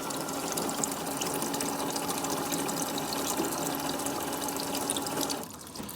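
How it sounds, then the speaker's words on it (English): A robotic feeder fills the bowl under its spout with hot water, a steady rushing, splashing pour that holds even for several seconds and then drops off abruptly near the end. "we hold the 2 button down and it will fill the bowl that's under the spout with hot water and wash"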